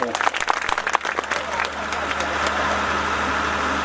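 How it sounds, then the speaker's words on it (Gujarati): An audience at a village gathering applauds to welcome a folk literature artist, with dense clapping for the first couple of seconds before it thins out and leaves a steady background hum. "તાળીઓના ગડગડાટથી આપણે સ્વાગત"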